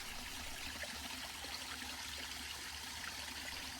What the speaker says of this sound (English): The water features here are fed by natural spring waters.